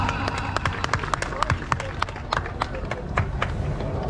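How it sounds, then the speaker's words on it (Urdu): An audience claps at a Pakistani community event in Carteret, New Jersey, with many sharp, overlapping hand claps forming loud, dense applause throughout, and crowd voices murmuring underneath. "بھرپور تالیوں کے ساتھ"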